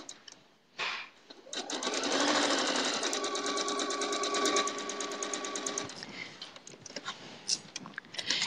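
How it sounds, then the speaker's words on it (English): A sewing machine runs in a fast, steady burst while chain piecing quilt fabric pieces for a log cabin quilt, with brief pauses and handling clicks around it, close and alone. "what you see me doing here is called chain piecing. I don't sever my threads between my pieces, I just carry on and piece the next one"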